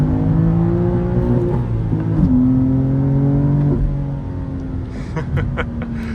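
A manual 2024 BMW M2's engine pulls hard through the revs in a loud, close, rising drone that climbs toward the redline, with shifts in pitch before it eases off near the end.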